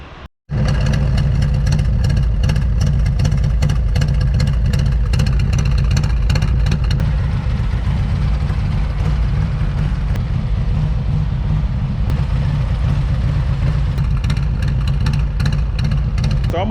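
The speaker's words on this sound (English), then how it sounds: "you haven't heard the exhaust yet. So let me let you hear what it sounds like" A 2019 Harley-Davidson Street Glide with an upgraded exhaust idles loudly and close, a deep steady exhaust rumble with a rapid pulsing throb that runs on without a break.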